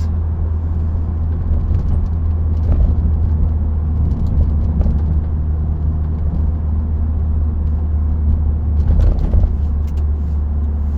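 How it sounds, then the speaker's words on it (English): Loud, continuous road rumble and low engine drone fill the cabin of a moving car, a steady whir with no speech. "it's a lot more noise than I'm used to in a car"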